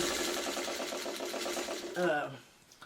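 A sewing machine stitches a quilt block along a marked line, its rapid, steady needle rhythm running close and fairly loud for about two seconds before slowing and stopping, while a voice talks over it.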